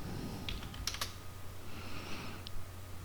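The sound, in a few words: typing a command on a computer keyboard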